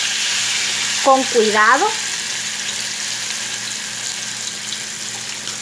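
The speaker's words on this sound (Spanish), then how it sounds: "Voy a una sartén con aceite y voy a colocar la yuca" Boiled cassava (yuca) fries in oil in a pan, a constant close sizzling hiss through the whole stretch, with someone speaking briefly over it near the start.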